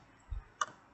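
A single mouse click while working in PostgreSQL database software, a short sharp tick heard alone against a quiet background.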